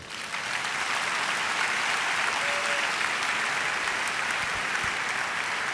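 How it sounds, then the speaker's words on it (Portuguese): A lecture audience applauds in a hall, with steady, dense clapping from many hands that holds for several seconds without a break. "Aplaudam, por favor"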